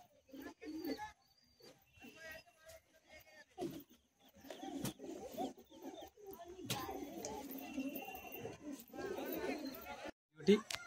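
Pigeons coo repeatedly in soft, low rolling phrases throughout, set against ongoing talk and light background chatter, with the birds close and a sharp knock near the end.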